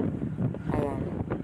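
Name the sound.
strong wind on a moving vehicle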